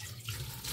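Tap water runs steadily into a sink while milkfish (bangus) is cleaned for sinigang, a short, close, continuous wash of flowing water with no talk.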